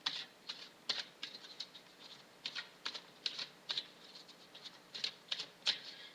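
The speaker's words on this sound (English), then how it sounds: "I'm just going to knock the deck to clear the energies and give the cards a quick shuffle." A deck of Earth Magic oracle cards is knocked and shuffled close up, giving a string of light, quick taps and riffling clicks in an uneven rhythm. The sound is soft, with no talking.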